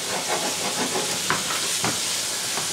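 Shrimp sauté in a hot pan with broccoli and bow tie pasta nearby, giving a steady, loud hiss and sizzle with a few brief crackles and no voices.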